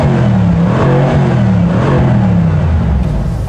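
A Mercedes-AMG C 63 Coupé V8 with its optional switchable performance exhaust roars loudly and close, a deep throbbing exhaust note rising and falling briefly with the throttle, no talk over it.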